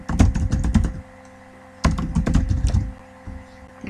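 Typing on a computer keyboard while filling in an online sign-up form, two close bursts of rapid key clicks separated by a short pause, with a third softer burst at the end.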